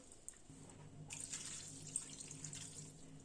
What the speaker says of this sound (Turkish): 3 su bardağı da su ilave ettim